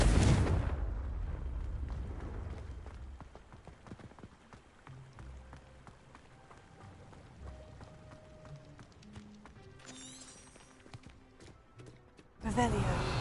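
Confringo blasting spells in Hogwarts Legacy, heard as a heavy, loud blast at the start and another near the end. Between them come lighter clattering game effects, footsteps and faint musical tones.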